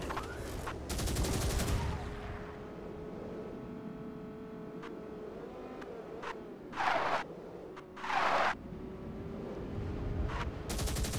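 Forward weapons on a vehicle in Spy Hunter 2 fire in short bursts, with an engine running underneath, and several loud, sharp volleys stand out over it.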